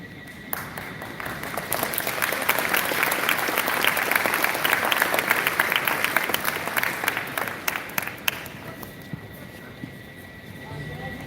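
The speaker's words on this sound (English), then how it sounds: "Let's give him and his father another round of applause." A crowd at a school Veterans Day assembly applauds steadily for several seconds, a dense wash of clapping that thins into scattered claps near the end.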